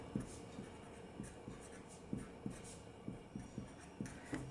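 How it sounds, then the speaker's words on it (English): A pen writes an equation on paper, giving soft, close scratching strokes with short tapping pauses at a steady pace, quiet and intimate. "Let me write it over."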